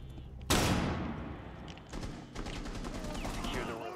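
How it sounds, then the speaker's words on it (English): A flash grenade in Rainbow Six Siege goes off with one sharp, loud bang that decays slowly, followed by scattered gunfire and game noise. Players talk faintly over it. "Throwing flash grenade!"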